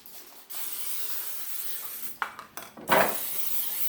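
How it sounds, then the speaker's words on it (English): A few short, close bursts of non-stick cooking spray hiss into a pan over a quiet kitchen background, with a faint clink of the pan between them. "And I'm going to spray this so it doesn't stick."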